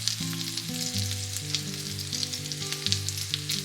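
Okonomiyaki batter and raw pork belly sizzle steadily in a frying pan, a close, continuous crackle layered over a low hum.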